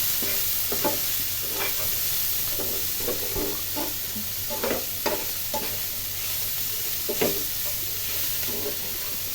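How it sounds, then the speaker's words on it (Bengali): Fried vegetables being stirred in a pan, a continuous soft sizzle and hiss beneath regular scraping strokes of a spatula, close and moderately loud, with no talking. "সব ভাজিটা হয়ে গেছে, একটু নাড়াচাড়া করে দিয়ে তারপর নামায় ফেলাবো বাড়িটা"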